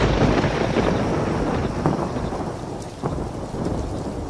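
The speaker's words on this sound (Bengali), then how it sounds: "সত্যি এমন সময় ঝমঝমিয়ে বৃষ্টি নামল।" Heavy rain pours down steadily with rolling thunder in a stormy night scene, a dense, loud, continuous roar of downpour with deep rumbles throughout.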